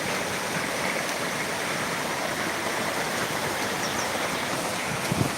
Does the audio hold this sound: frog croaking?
no